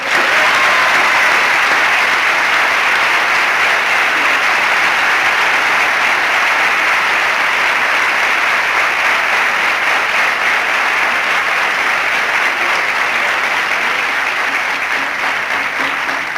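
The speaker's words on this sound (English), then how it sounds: "I would like you now to offer them a particular round of applause." A sustained round of applause for election supervisors at a 1996 election-night gathering, loud, dense and unbroken clapping from a large crowd that holds steady throughout.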